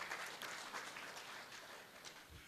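An audience at a comedy debate event claps in a steady, faint wash of applause with no voices over it.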